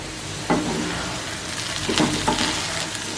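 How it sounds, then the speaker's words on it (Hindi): Potato sabzi sizzles in a pan while a spoon stirs it, a steady frying hiss broken by a few scraping strokes of the spoon against the pan, up close with no talk. "अभी इसको ना मिक्स करना है"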